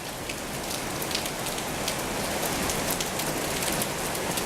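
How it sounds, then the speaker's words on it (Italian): Spring thunderstorm rain in Quartu Sant'Elena falls steadily onto plant pots, a dense continuous patter with scattered sharper drop hits close by. "Quando sta piovendo sta colpendo il"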